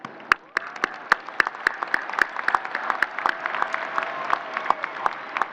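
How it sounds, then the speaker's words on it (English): An audience at a university commencement ceremony claps, with crisp individual claps ringing out at first and then thickening into fuller, sustained applause from a large crowd. "Please join me in a round of applause to thank our outstanding faculty, staff, and administrators"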